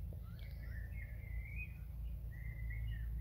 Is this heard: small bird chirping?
yes